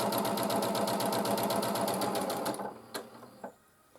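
A sewing machine stitches pairs of small fabric squares together in a fast, steady mechanical run that stops near the end, leaving a few soft clicks and handling noises.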